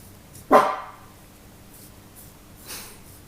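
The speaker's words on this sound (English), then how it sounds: "scary guard dog lying here barking at the cars that are passing by outside" A guard dog barks once, loud and close, then gives a fainter second bark. Passing cars are heard outside.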